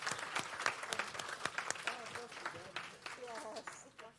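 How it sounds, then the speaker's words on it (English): Scattered audience clapping for panelists at a caregiving conference, quiet and sparse, mixed with people talking over it. "can you all join us to give a round of applause to all the panelists here?"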